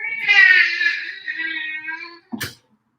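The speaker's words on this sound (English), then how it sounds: "So there you go. That's my cat." A cat gives one long, drawn-out meow, wavering and close, followed by a brief soft thump or rustle near the end.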